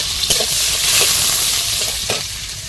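Onion and garlic fry in hot oil with a steady, close sizzle, broken by a few short stirring scrapes and clinks of a utensil against the pan.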